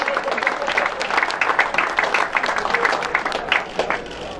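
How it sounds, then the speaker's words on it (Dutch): A crowd applauds at a podium ceremony for the classification leader of the Olympia's Tour 2014 cycling stage in Reuver, with dense, continuous clapping that holds steady throughout at moderate distance. "En dan natuurlijk dat ovationele applaus voor de leider in het klassement van de Royal Smilde."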